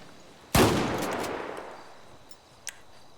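A single loud rifle shot from a roleplay game, a sharp crack with a long echoing tail fading over about two seconds, then a faint click.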